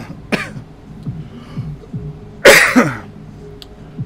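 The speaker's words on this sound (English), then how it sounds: "coughing my head off" A person with a bad cough clears their throat in short repeated bursts, then lets out one loud, harsh hacking cough followed by quieter rasps; close and alone, no talk.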